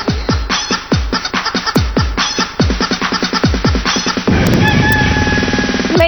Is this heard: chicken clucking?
yes